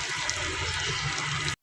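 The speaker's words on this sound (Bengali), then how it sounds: "এখন পানি দিয়ে দিব" A steady, close stream of water is poured into a pot of chicken with small potatoes being braised, running without pause and cutting off sharply at the end.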